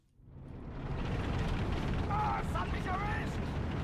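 Off-map artillery barrage in the Steel Division 2 war game with the Red Storm mod, a sustained low rumbling roar of shell fire that swells in quickly and holds heavy and continuous, with faint voices briefly over it.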